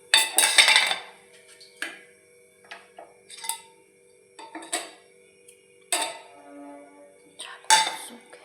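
Small utensils and dishes for a Laddu Gopal offering clink and tap in a home kitchen, in scattered light knocks and short clatters, close and moderately loud, with brief gaps of quiet between.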